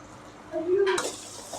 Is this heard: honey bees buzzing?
no